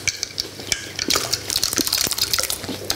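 A spoon stirs a mirabelle plum mixture in a bowl, making wet squelching with repeated light scrapes and clinks against the bowl, close and steady.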